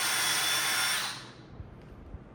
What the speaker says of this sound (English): I clamped the 2 aluminum strips together so I can line up the hole and just use that as a guide to drill through the 2nd strip.